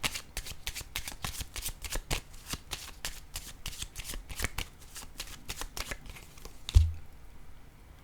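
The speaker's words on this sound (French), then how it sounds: "je vais déposer une carte" Tarot-style cards are laid down one after another in a quick, steady run of crisp flicks and slaps during a reading, ending with a single heavier thump as the last card lands.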